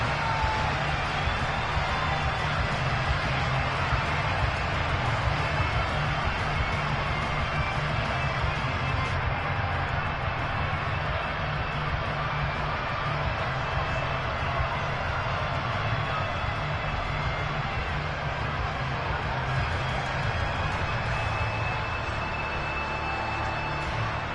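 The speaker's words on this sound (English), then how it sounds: "This crowd urging on their defense. They're up and making noise." Steady, loud stadium crowd roar from an EA Sports NFL video game fills the whole stretch, a constant wash of cheering and noise with no pauses.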